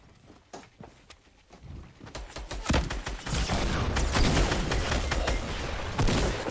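Video-game gunfire, quiet scattered shots at first, then a loud, dense volley of rapid cracks and bursts that keeps going steadily to the end.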